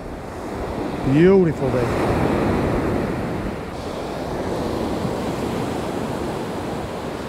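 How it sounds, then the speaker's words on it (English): Ocean surf washes on a beach in a continuous broad rush, moving out and coming back in, with wind buffeting the microphone. A short whistle-like tone sounds near the start, and someone speaks briefly. "the surf as it's going out and the surf as it's coming back in"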